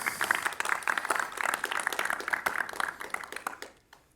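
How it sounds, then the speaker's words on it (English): A conference audience applauds for software contributors, with dense, steady clapping from many hands that holds for several seconds, then quickly thins and fades out. "it would be nice to have an applause for them"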